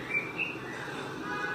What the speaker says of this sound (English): I have no idea what this bird call is,